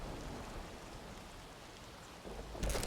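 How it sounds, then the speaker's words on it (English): Soft, steady rain patters on a roof in the Atomfall video game, a faint continuous hiss that swells slightly near the end. "Maybe it's just rain hitting that roof."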